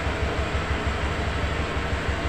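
A smooth, steady low Honda Vario 125 2023 scooter engine hum idles continuously with a fine even pulse, close by and with no voices.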